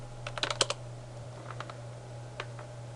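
A search keyword is typed on a computer keyboard in a short burst of close, crisp keystrokes, followed by a few scattered clicks over a steady low hum.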